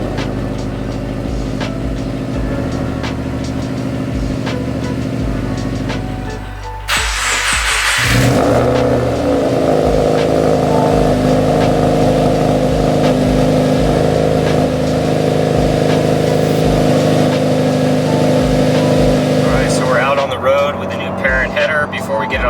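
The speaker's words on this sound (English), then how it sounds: "We're gonna lower this thing and fire it up and just give you a nice little cold start" A Subaru WRX fitted with a Perrin equal length header exhaust gets a cold start. A low idle-like hum gives way to a sudden starter burst, then the engine catches into a loud, steady, raised idle with a deep burbling drone.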